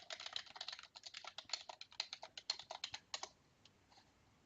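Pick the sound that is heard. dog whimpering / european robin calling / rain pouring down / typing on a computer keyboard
typing on a computer keyboard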